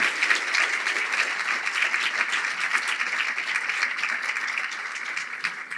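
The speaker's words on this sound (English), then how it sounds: "I just want to give a big round of applause to all of you" An audience at a mayor's community event gives sustained applause: steady, moderately loud clapping from many people that continues evenly without a break.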